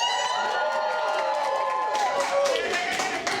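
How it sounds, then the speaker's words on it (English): An audience at a dance show cheers and whoops, shrill excited shouts and scattered clapping layered over a steady crowd roar, with voices calling out through it. "Let's hear the cheering"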